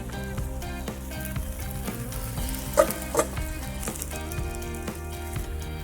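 Smoked burgers topped with Vermont cheddar sizzling on a hot cooking surface, a continuous crackling hiss with a couple of sharper metallic knocks midway, close and steady with no talking.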